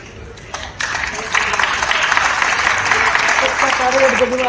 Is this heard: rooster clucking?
no